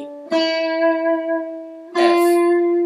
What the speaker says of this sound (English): so we get this nice little composite scale which sounds like this.